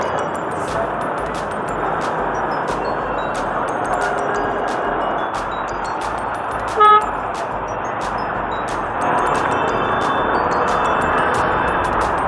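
Road traffic murmurs steadily in a city, with one short car horn toot near the middle and faint ticking above a continuous engine hum.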